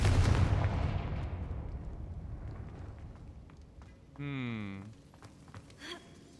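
A Confringo fire spell fires in Hogwarts Legacy near a troll fight, a loud burst opening the moment and trailing off into a fading rumble, with a short vocal effect and faint game sounds afterward.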